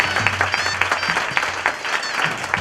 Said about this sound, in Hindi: ये सारा श्रेय नितिन के लिए जोरदार तालियों से इसका स्वागत